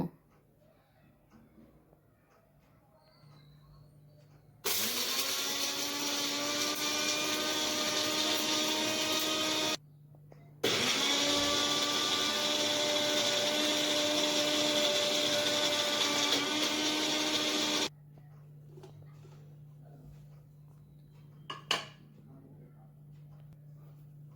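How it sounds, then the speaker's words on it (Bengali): A mixer grinder whirs loudly as it finely grinds spices, two long steady runs separated by a short pause, with quiet room sound before and after. "তো এগুলো আমি মিক্সিতে ভালো করে মিহি করে পিষে নেব"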